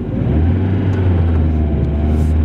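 An E36 BMW car drives along with a steady, loud, low engine drone and a faint rising whine, heard from inside the cabin without talk.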